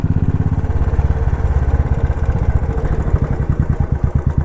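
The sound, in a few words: motorcycle engine braking downhill in gear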